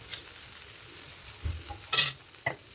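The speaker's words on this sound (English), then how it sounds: "Add it and mix well. Toss for 2 to 3 minutes so that the flavors combine" Chopped chicken is tossed and stirred in a hot pan, a soft sizzle running underneath while several sharp scrapes and clacks of the utensil land near the end.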